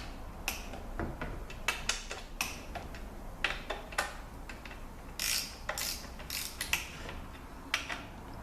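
Ratchet tightening a bolt on a C6 transmission valve body, a close, crisp series of rapid clicks in short uneven bursts, with no talking.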